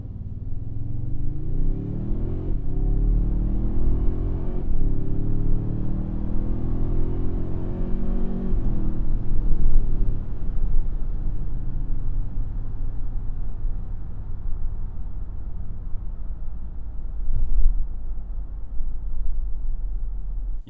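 A 2026 Toyota Sequoia Capstone i-FORCE MAX hybrid 4WD pulls away from a full stop, its engine and motor rising in a steady climbing drone that levels off into a sustained loud rumble, heard from inside the cabin without talking.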